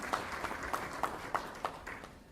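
Faint audience clapping at a Hindi award ceremony in Canada, heard as evenly spaced single claps about three per second in a slow rhythm against a quiet room hush, with no voices.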